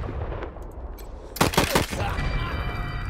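Gunshots ring out in turn-based combat in Wasteland 3, a quick cluster of sharp, loud bangs over a low background hum, then fading into ambient rumble.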